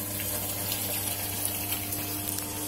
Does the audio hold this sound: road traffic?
no